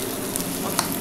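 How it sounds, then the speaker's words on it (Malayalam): Potatoes are mixed with fried onions in a pan, giving a brief burst of close sizzling and frying with a soft scrape or two of stirring, and nobody talks. "ഇതിനെ ഫ്രൈ ആയ ഓണിയൻസ് ആയിട്ട് കുറച്ച് മിക്സ് ചെയ്യുക."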